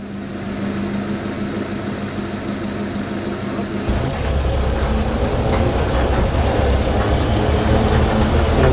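Old Dodge truck driving at night, a steady engine drone that steps up louder and rougher partway through as the truck picks up speed, close and continuous with no talk.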